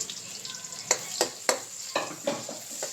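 Thinly sliced onions fry in hot oil in a kadai, a soft sizzle broken by several sharp clinks and scrapes of stirring at close range, with no speech.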